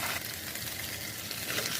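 Potatoes frying with spice paste of ground chili, cumin, ginger, turmeric and salt in a pan, a steady close sizzle with faint stirring.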